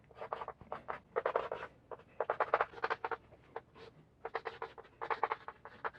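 A pen scratches out vector notation by hand on paper, close and fairly quiet, in quick irregular bursts of strokes separated by brief pauses, with no talking.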